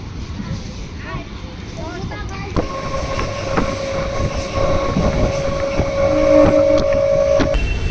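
A local train rumbles into Dum Dum station in Kolkata with squealing wheels and clattering, with voices talking over it nearby.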